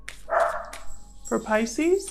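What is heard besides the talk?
dogs barking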